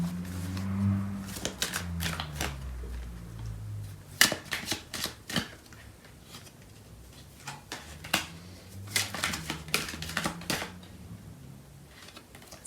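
Tarot cards being shuffled and riffled by hand, soft papery flutters and quick bursts of card slaps in several rounds, close and clear with no talking.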